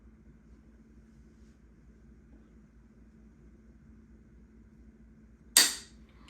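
A single sharp, loud click from the dry-fired trigger of a brand-new Browning Medallion rifle snaps out of a quiet, low room hum near the end and fades quickly.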